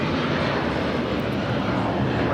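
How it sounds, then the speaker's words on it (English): A Boeing 757-300 jet taking off at LAX makes a loud, continuous broadband engine roar that holds steady and close throughout, with no voices over it. "This takeoff is United Airlines 2113 taking off to Chicago on the 757-300."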